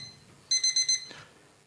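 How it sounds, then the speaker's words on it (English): A slider's alarm sounds as four rapid, bright electronic beeps in a quick even burst, followed by a short fading tone, loud and alone with no talking. "That's our slider's alarm."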